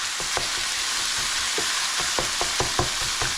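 Ground beef, drained of most of its grease, sizzles in a pan for unstuffed peppers, a dense continuous hiss with a run of light spatula taps and scrapes toward the end, close by and without speech.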